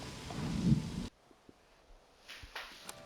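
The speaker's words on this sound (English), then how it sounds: "The rain." Rumbling thunder with rain rolls loud for about a second, then cuts to a quiet patter of rain with scattered faint drips and ticks.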